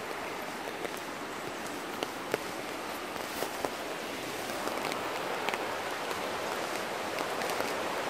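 Steady rain patters down in Weardale near a river, a soft continuous hiss with scattered sharper drops tapping nearby surfaces.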